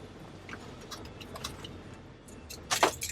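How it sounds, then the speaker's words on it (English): A set of car keys for a Subaru Outback is picked up, giving a quick, bright metallic jingle near the end, after a few faint ticks over a quiet background. "Taking the keys with me."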